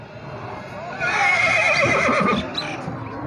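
A seven-year-old mare at a horse sale market in Tandlianwala mandi lets out a loud, wavering whinny lasting over a second, close by, with faint background voices and crowd noise.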